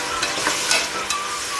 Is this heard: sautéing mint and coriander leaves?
yes